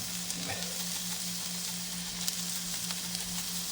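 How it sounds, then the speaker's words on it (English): Carrots, celery, onion and shallot sizzling in hot oil in a pan, a dense, even frying crackle held close and steady from start to finish, with no talking. "Now I'm going to go ahead and I'm going to add in all our aromatic vegetables. That's the carrots, the celery, the onion, the shallot."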